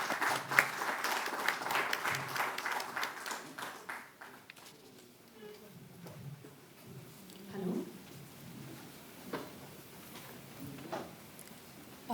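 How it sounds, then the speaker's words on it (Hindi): Applause from an audience at the launch event of a Delhi tourism app, a burst of clapping for about four seconds that fades into quieter room noise with scattered sounds. "तालियों से आप अभिनंदन करें।"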